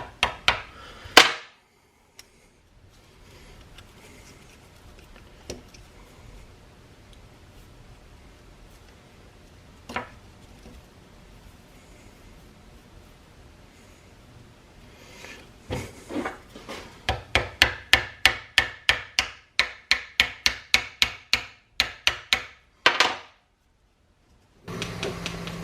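A pin is hammered into the handle of a hand-forged knife: a few isolated knocks at first, then a long run of rapid, evenly spaced hammer strikes close up, ending abruptly.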